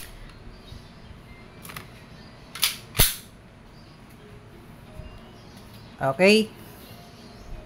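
A KWC 75 competition model airsoft pistol fitted with a red and green dot reticle sight fires a few sharp, close snaps spaced seconds apart, with a brief spoken word and a squeaky scrape between shots.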